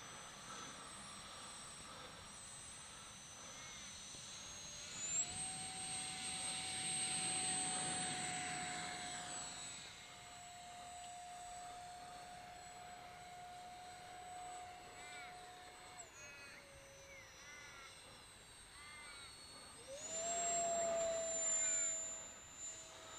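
Model Bubble Jet aircraft flying in to land in calm, windless conditions, its steady high-pitched engine whine rising and falling in pitch as it passes, holding a sustained tone, then surging louder near the end.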